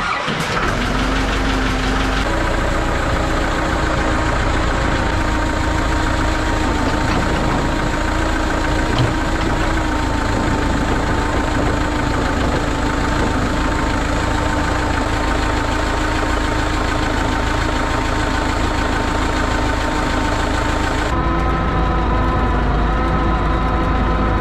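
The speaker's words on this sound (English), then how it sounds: "I'm gonna try to get some trails going here with the tractor." A heavy tractor engine idles and chugs steadily and loudly throughout in deep snow, with a rough knocking rumble and a brief shift in tone near the end.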